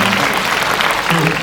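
A cinema audience at a film screening with the director present breaks into loud, sustained applause, dense crowd clapping with a voice faintly underneath.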